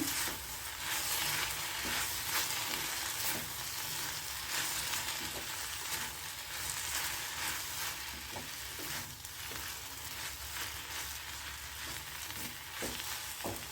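Okra (lady finger) stir-fries in a pan with salt for a traditional fry, giving a continuous close sizzle broken by light stirring scrapes, with no talking.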